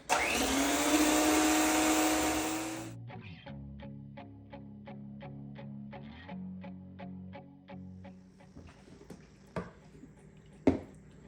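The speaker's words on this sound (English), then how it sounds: "I'm putting like a 1/4 teaspoon to 4 egg whites. I'll beat that up." An electric mixer beats four egg whites with cream of tartar for a keto cake, a loud motor whir for a few seconds that cuts off, then faint clicks and scattered kitchen knocks.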